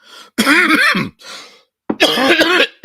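A host coughs and clears his throat several times during a live broadcast, two dense bursts of loud, close coughing separated by brief pauses, with no speech.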